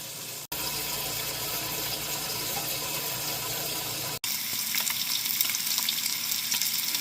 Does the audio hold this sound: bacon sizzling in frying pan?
yes